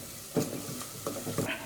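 Chana masala with amchur powder and spices is stirred in a cooker pan. Several distinct scraping strokes cut through a continuous background sizzle, heard up close.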